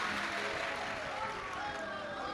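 An audience at a Shiv Mahapuran religious discourse claps loudly to welcome guests, the dense applause filling the hall steadily with a voice faintly underneath.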